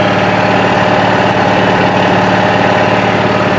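A loud, steady engine idles close by while the electrical system charges, its low rumble and rhythmic throb continuous with no pause.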